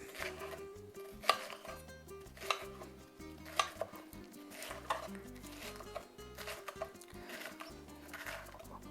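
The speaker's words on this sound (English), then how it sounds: "We're going to just chop." A knife chops vegetables for vegetarian tamales on a cutting board, giving a quick run of sharp, close taps at an irregular pace, with quiet music underneath.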